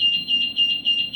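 An emergency alarm aboard a Vande Bharat Express train sounds as a steady run of high, shrill electronic beeps pulsing evenly, loud and alone with no talking.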